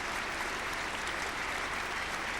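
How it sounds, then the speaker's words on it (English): Crowd applause at Lord's during an England v Australia Test cricket match in 1981, a dense, even patter of many hands clapping continuously from a distant stand. "And applause all round for Dyson"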